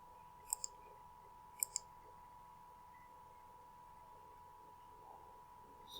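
Two quick pairs of soft mouse clicks, near the half-second and at about 1.6 seconds, sound faint against a low steady hum while a user works in QuickBooks accounting software.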